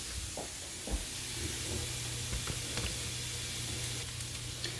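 Onions frying in a pan until brown and translucent, with a continuous soft sizzle and hiss and a few faint clicks of stirring underneath.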